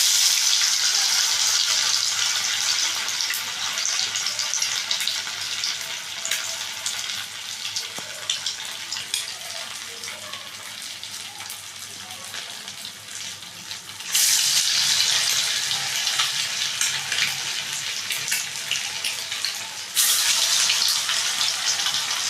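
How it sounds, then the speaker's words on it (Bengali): Egg cutlets fry in hot oil in a wok, giving a steady, bright crackling hiss that runs throughout and swells louder in a couple of stretches, with no voices. "এবারে আমি এই কাটলেটগুলোকে একটা একটা করে ভেজে নেব।"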